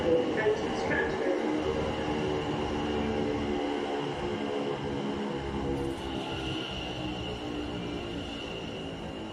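An Elizabeth line train rumbles at Stratford station in London, a steady low rolling drone with a faint high whine, heard alone at moderate level.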